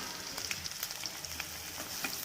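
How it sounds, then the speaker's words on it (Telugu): Thinly sliced onions fry with mustard seeds in hot oil in a pan, making a close, crackling sizzle dotted with quick irregular pops. No voices are heard. "ఆనియన్ని కొద్దిగా బ్రౌనిష్ వచ్చేలాగా ఫ్రై చేసుకోవాలి"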